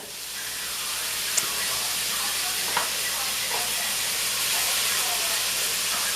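Vegetables for shrimp and sausage Creole sweat in a hot pan with a steady, close sizzle and hiss that runs unbroken throughout, marked by a couple of faint clicks from utensils.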